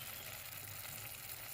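Meat sizzles steadily in a frying pan during carnivore-style cooking in a camper van, a continuous close crackle and hiss with a low hum underneath and no talking.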